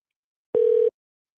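A single steady telephone tone sounds alone for about a third of a second, loud and clean on the line before a call goes through.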